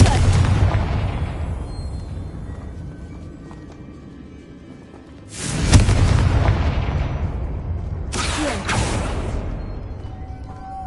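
A Confringo spell in a Harry Potter video game explodes in booming blasts: one big burst at the start, another near the middle, and a sharper double burst later, each decaying into rumbling echoes.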